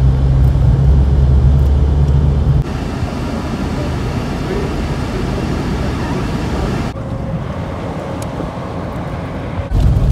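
An Opel Corsa drives along a road, its engine droning loudly under heavy cabin and road rumble that shifts twice as the car picks up speed, heard from inside with no talking.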